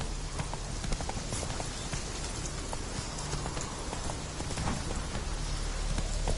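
A horse gallops in a PS4 video game, its rapid, steady hoofbeats repeating over a constant rain-like hiss throughout, with no talk.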